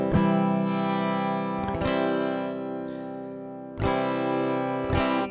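A Fender Telecaster with its pickup blend turned fully to the electric pickup rings out in sustained strummed chords, with a few sharp strums spaced a second or two apart and no one talking.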